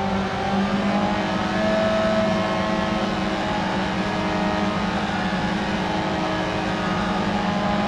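A rally car engine in the Dirt Rally 2.0 racing game on PC drones and revs continuously at high pitch, loud and steady with no voices.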